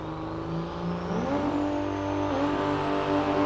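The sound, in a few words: drag race cars rolling up for Pro Stock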